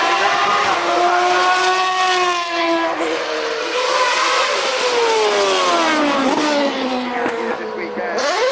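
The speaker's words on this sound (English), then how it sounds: "the Aston Martin Valkyrie that Adrian Newey is driving, that's coming up to the back" An Aston Martin Valkyrie hypercar, driven by Adrian Newey at the Goodwood Festival of Speed, screams past with a loud, high-pitched engine note that rises and falls through gear changes under a crowd-like background wash.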